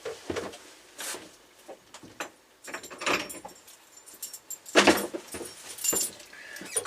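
Small metal keys jangle and clink on a key ring, with a spent bullet casing fitted as a fob, in a close series of irregular rattling bursts.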